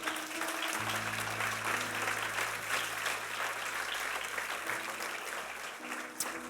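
A church congregation applauds together, a steady, fairly distant wash of clapping with a sustained organ or keyboard tone beneath it.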